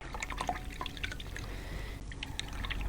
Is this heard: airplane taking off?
no